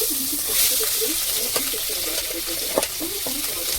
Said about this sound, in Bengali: তেল গরম হয়ে গেছে, দিয়ে দেবো মাছটা ভালো করে ভেজে নেব।